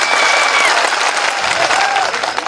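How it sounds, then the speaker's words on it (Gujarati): Loud, sustained applause from a large crowd at an outdoor political rally in Kwant, Chhota Udepur, clapping continuously throughout with a few voices mixed in. "બધા જ માટે એકવાર આપણે જોરદાર તાળીઓ પાડી લઈશું"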